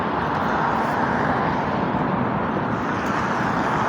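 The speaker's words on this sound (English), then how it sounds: "So there's tons of cars here." Dense, steady street traffic roars outside the Pushkin theater, a constant broadband wash of passing cars without gaps, loud and with no voices.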